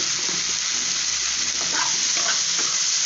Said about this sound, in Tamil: நல்லா எண்ணெயில் வறுக்கிற மாதிரி ஃப்ரை ஆகட்டும்.